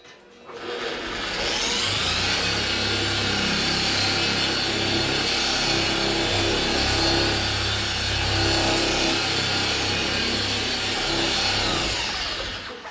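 A dual action polisher spreads polish across a car panel, a steady whirring motor drone at close range that ramps up, holds evenly and then tails off at the end.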